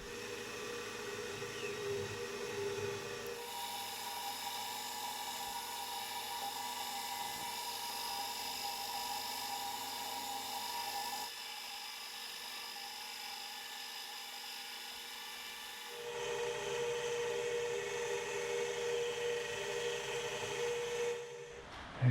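A milling machine runs steadily, drilling an M5 hole and tapping it to M6 during a spindle repair. It produces a continuous mechanical whine and hum whose pitch and load shift between stages, ending with a sharp click.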